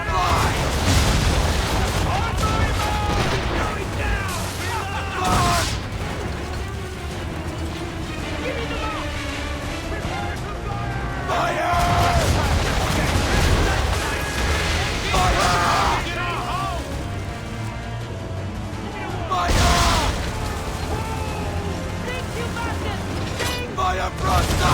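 Naval cannon broadside fire during a ship battle in Assassin's Creed 3, booming blasts under constant shouted orders, clanking mechanisms and crashing water, with a few heavier bursts standing out.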